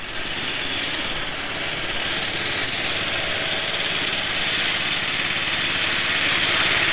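A small engine on a radio-controlled garden tractor runs steadily at close range, a constant buzzy drone that holds an even pitch and loudness with no talking over it.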